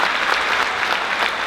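A large audience at a community justice action meeting breaks into loud, dense applause, a short close burst of many hands clapping together with no speech over it.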